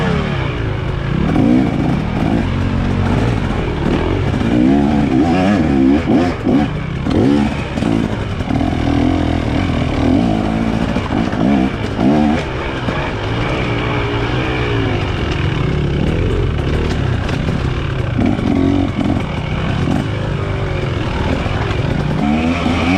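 Dirt bikes, including a YZ150, ridden hard over rough terrain, with loud close engines revving and bogging continuously and clattering over bumps throughout.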